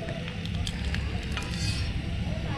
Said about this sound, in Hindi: यहाँ तिम्मू फ्राई कर रही है गोलगप्पे